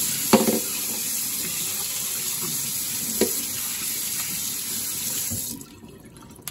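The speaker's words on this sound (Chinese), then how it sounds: "放一点洗碗剂啊，用水稍微冲一下就可以了" Tap water runs steadily over a meat grinder part being rinsed with dish soap, with a few small clinks before the flow cuts off near the end.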